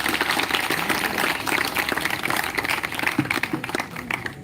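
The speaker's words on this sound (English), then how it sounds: "can we have a round of applause?" An audience applauding at a live Krishna Janmashtami 2023 event, a steady wash of many hands clapping that holds evenly throughout without pause.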